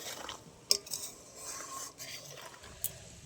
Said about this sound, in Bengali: এবার দিয়ে দেবো আমি দু চামচ ঘি ভালো করে মিশিয়ে